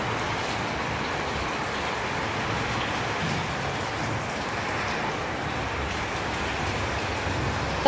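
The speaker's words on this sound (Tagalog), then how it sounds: "Medyo lumalakas na ulan." Rain falls steadily and fairly loudly as Super Typhoon Pepito approaches, a constant wash of drops on surfaces with no voices heard.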